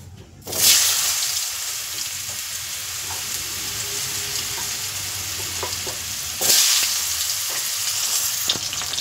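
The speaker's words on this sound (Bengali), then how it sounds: "আর ওই তেলে এবার কুমড়োটাকে আমি ভেজে নেব" Pumpkin frying in a pan of fish oil left over from frying hilsa heads gives a steady, close, loud sizzle that surges sharply near the start and again partway through, with no voices.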